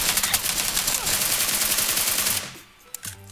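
Sustained automatic gunfire in the mobile shooter PUBG New State, loud and continuous for a couple of seconds before cutting off abruptly, followed by a few faint scattered shots.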